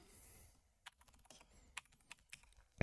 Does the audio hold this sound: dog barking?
no